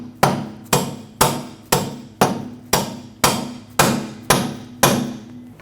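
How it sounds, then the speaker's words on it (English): A hammer taps a steering knuckle fork up onto the front strut of a 2006-2010 Hyundai Sonata: nine sharp, evenly spaced metallic blows, close and loud, with short ringing decay and no voices. "Tap this fork upwards to seat it on the strut."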